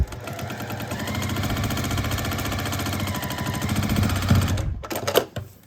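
Sewing machine stitching foundation paper-pieced quilt block fabric, a steady rapid mechanical chatter running continuously for several seconds before slowing and stopping near the end.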